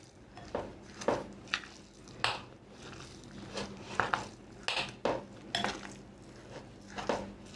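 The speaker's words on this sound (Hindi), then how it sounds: "इसको हमने अच्छे से मिक्स कर दिया है।" Minced keema being hand-mixed in a bowl with ginger garlic paste and finely chopped ginger, a run of soft squishy mixing strokes broken by repeated light clinks of utensil against dish, close and alone without talk.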